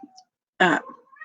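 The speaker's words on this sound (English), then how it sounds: "And I apologize for the meowing cat." A single short cat meow sounds indoors, brief and fairly clear, with faint room noise before and after.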